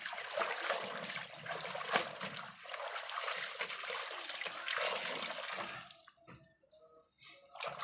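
Hand-washed laundry is rinsed in water, with sloshing and splashing close by that gives way to a few soft drips and trickles near the end.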